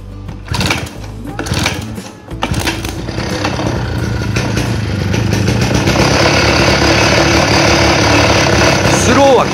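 A two-stroke spider mower engine run on fresh mixed fuel during a test, sputtering and catching in bursts before settling into a loud, steady close-up idle.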